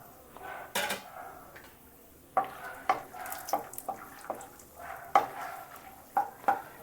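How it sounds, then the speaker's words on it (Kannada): Cashews and walnuts being roasted in a pan for carrot halwa, with a series of light clinks and stirring scrapes against the pan over a soft background hiss, steady and close. "ಇವು ಚೆನ್ನಾಗಿ ಚೂರು ಗರಿ ಗರಿ ಆಗಂಗೆ ಹುರಿಬೇಕು"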